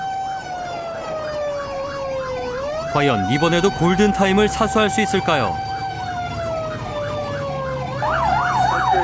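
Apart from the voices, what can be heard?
fire engine siren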